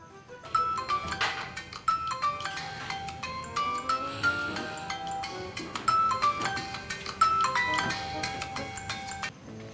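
Phone ringtone playing during an unanswered call, a repeating melodic chime pattern with tinkling notes, fairly quiet and looping several times.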